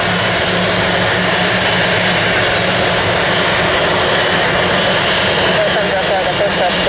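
A jet airliner powers up for takeoff from runway 18 right at Orlando International Airport, a loud, steady broadband engine roar that fills the whole stretch, with radio chatter faintly underneath.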